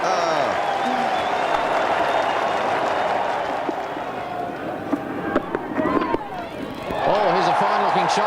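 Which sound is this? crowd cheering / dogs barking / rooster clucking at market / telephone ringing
crowd cheering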